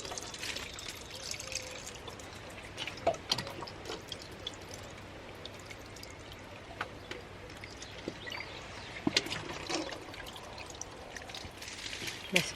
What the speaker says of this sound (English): Get the watering can.